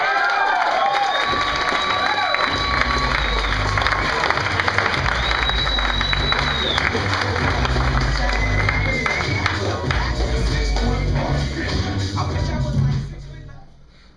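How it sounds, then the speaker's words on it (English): A stand-up comedy audience claps and cheers loudly and continuously, with whoops and shouts rising over the applause before it fades out at the end. "give a big round of applause"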